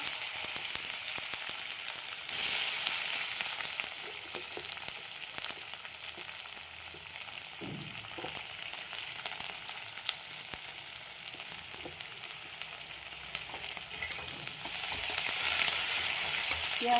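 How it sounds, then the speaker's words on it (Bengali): Onions frying in a pan after whole spices have been tempered in oil for a breakfast dish: a steady, close broadband sizzle throughout, with occasional stirring scrapes and a brief louder burst near the start. "ফোড়নটা হয়ে গেছে, এবার আমি পেঁয়াজগুলো দিয়ে দেবো।"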